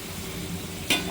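Murla fish curry simmers in a pan after a splash of bowl-rinsing water, a steady soft sizzle with a sharp hiss and burst near the end.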